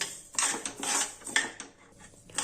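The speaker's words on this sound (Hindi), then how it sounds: "सबसे पहले हम कढ़ाई में डाल देंगे अलसी और गैस की फ्लेम को मीडियम पर रखते हुए अलसी को भून लेंगे" Flaxseeds are stirred and tossed in a kadhai over a medium gas flame, making bursts of dry rattling and scraping against the metal pan, close and irregular.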